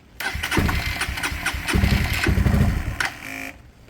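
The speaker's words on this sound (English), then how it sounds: "with choke on, it normally just idles fine anyway" A Hanway Scrambler 125cc motorcycle engine starts and runs near with the choke on, giving a loud, steady mid-pitched idle with a few sharper bursts before it cuts off near the end.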